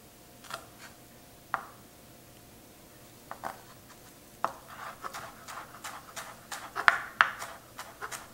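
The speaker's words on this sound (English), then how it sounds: "And I'll cut a little bit of parsley." Parsley being cut on a board in a home kitchen: sparse, light knife taps and clicks, a few scattered ones early, then a quicker run of near, crisp chops toward the end, with no talking.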